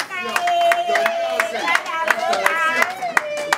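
Guests at a birthday party clap steadily in a close, lively round of applause, with a voice sounding over the sharp hand claps throughout.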